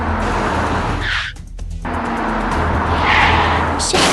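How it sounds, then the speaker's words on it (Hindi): An orange cartoon pickup truck speeds recklessly down a busy city street, its engine roaring loud and steady with a brief skid-like squeal near the start and another surge at the end. "शहर की हलचल भरी सड़कों पर एक नारंगी पिकअप ट्रक बेपरवाह दौड़ रहा है"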